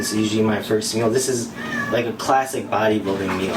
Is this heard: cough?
no